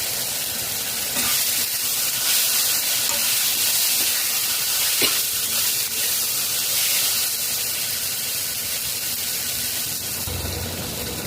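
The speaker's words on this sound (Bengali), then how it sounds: "পটল দিয়ে তিন মিনিট কষিয়ে নিয়েছি" Fried pointed gourd sautéing in a pan for a fish-bone curry, a steady, loud sizzle with stirring and scraping running throughout, with no talk.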